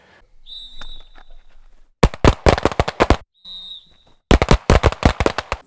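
Handgun fired during shooting practice: an electronic timer beep is followed by a rapid, loud string of shots. A second beep brings another fast burst, with quiet pauses between the strings.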